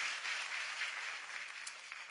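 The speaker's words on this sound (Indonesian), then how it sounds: "Clap for the Lord." A church congregation claps for the Lord during a sermon, a steady, soft wash of applause that carries evenly throughout without any voices.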